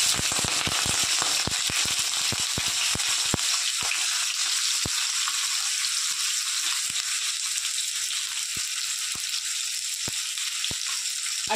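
Chopped onion dropped into hot oil with nigella seeds for a fish-oil chorchori, heard as a loud, dense, continuous sizzle with a flurry of sharp crackles and pops at first that thin out to scattered pops.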